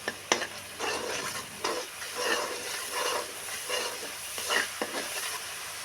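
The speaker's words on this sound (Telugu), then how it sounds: "పసుపు వేసుకున్నాక ఒకసారి కలుపుకుందాం" Mutton paya curry with turmeric just added, stirred in a pot over a low sizzle, with several distinct scraping strokes of a spoon at close range.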